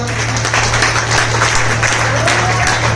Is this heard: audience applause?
yes